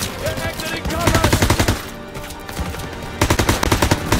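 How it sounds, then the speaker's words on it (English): Sustained machine gun suppressive fire in Call of Duty WWII, rapid bursts of rattling shots with a brief lull midway before another close, loud volley, battlefield din underneath. "Suppressive fire! Keep firing! That gun is still alive!"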